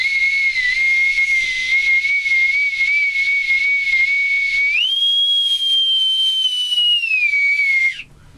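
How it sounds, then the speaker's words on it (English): A bosun's pipe, or bosun's whistle, shrills in one loud, sustained piercing tone, holding steady, then jumping higher near the midpoint and sliding gradually back down before cutting off abruptly. "With me, trusty bosun's pipe"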